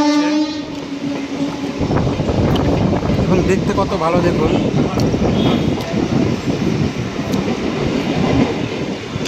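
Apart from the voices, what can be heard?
Ahmedpur local train passing through a market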